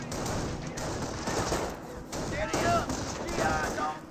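Rifle squads trade fire in the Company of Heroes World War II strategy game: rapid overlapping volleys of gunshots crackle continuously through the short stretch, with a voice talking over the battle.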